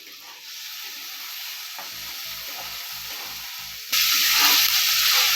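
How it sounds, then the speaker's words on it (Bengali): Lentils fry in hot oil for a Bengali-style semolina upma, giving a steady close sizzle with light stirring taps that turns sharply louder and brighter partway through. "তেলটা একটু গরম হতে হবে, হলে আমরা ডালটাকে একটু ভেজে নেব।"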